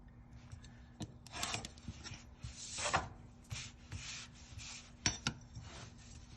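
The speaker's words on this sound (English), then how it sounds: "Just cut along the lines that you made with your scratch awl." A blade or shears cut leather along scribed lines for a guitar pick case, giving quiet, close scraping strokes in irregular bursts with brief gaps.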